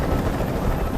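A helicopter in the video game Detroit: Become Human drones as a steady, loud rotor rumble with broad noise, continuous and close, with no voices.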